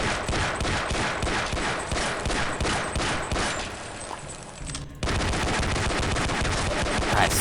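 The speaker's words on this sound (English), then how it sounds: "That's so cool, the bullets ricocheting off." Rapid gunfire with bullets ricocheting in Half-Life MMOD. Loud, continuous machine-gun bursts hammer on with metallic pings, briefly dipping before firing resumes even harder.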